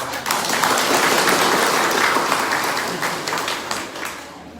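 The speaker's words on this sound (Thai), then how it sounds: "ปรบมือให้ ท่านนายกพิสารดีเตชะธีรวัตรดังๆอีกครั้งหนึ่งครับ" A large crowd at an outdoor political campaign rally in Chiang Rai applauds in a thick, sustained roar of clapping that swells early and slowly tapers toward the end.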